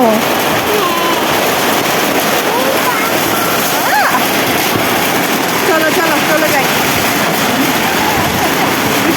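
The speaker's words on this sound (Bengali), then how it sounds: "এবার বৃষ্টি করতে লাগছে" Heavy rain pours down in a dense, constant roar with splashing, loud and close throughout, with some voices faintly beneath it.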